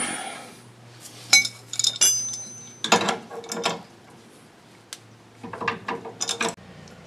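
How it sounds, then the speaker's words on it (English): A grease fitting being snugged up on truck traction bars, with sharp metallic ratcheting clicks and clinks in irregular bursts, close and fairly loud, separated by quieter pauses. "These are pretty loose too, so we're going to have to go ahead and snug that little Zerk fitting up."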